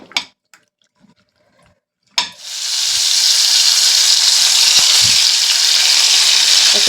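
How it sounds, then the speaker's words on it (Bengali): Sarpunti fish, coated in salt, turmeric and chili powder, laid one by one into hot oil: a few soft clinks and taps, then a sudden loud sizzle that settles into a steady, bright hiss of frying. "এক একটা করে মাছ এইভাবে দিয়ে আমি মাছগুলোকে ভেজে নিচ্ছি।"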